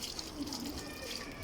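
Tap water running steadily into a sink during handwashing, a soft continuous splashing hiss at close range with no voices over it.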